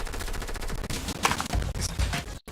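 Bursts of rapid automatic gunfire in Fortnite season 7, loud sustained rattling volleys with brief gaps, ending abruptly.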